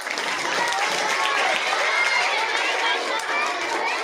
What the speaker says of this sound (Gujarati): તાળી પાડો તાળી